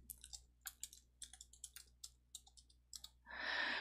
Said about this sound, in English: I typed in bitcoin.jpg and I hit OK